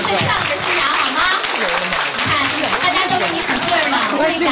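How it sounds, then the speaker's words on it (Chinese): Wedding guests applaud for the bride, whose wedding takes place with her in a wheelchair, in a dense, continuous burst of clapping while a presenter's voice and crowd chatter carry over it. "我们大家用我们的掌声告诉她，她今天是谁最漂亮的新娘"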